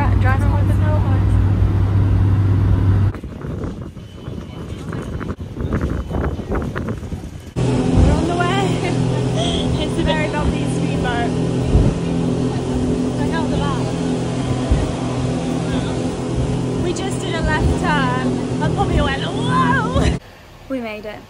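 A motorboat engine drones loudly with shifting pitch, joined by thumps and rattles of a rough ride near Koh Kiped, a Thai island, while voices talk over it.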